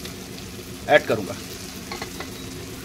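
Fried potatoes tipped and stirred into a tomato-onion masala with turmeric frying in the pan: two quick scraping stir strokes over a low steady sizzle, then a few softer clinks as someone speaks briefly.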